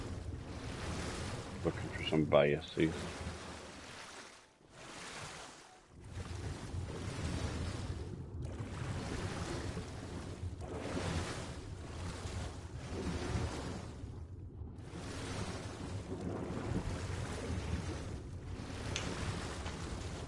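Ocean waves in the game Ark wash and surge in broad, rolling swells with wind-like hiss, fairly faint, while a person talks now and then over the water.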